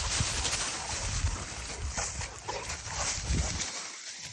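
Two dogs play loudly in the rain, barking and yipping over a constant hiss of rainfall, close by and vocal throughout, with the noise dropping away at the end.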